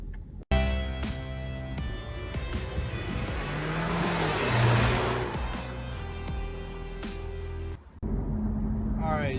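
A 2017 Ford Mustang pulling onto a highway, its engine revving up through the gears with a rising, strained tone and sharp shift breaks, loud and close from inside the car.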